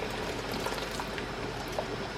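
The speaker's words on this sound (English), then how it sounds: "Pour that water out right into here." Water is poured out of a canning pot used for canning pears, a steady splashing rush of liquid that is close and continuous throughout, with no talk.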